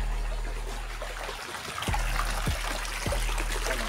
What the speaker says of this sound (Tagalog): So yung busay, andun na yung busay doon sa unahan.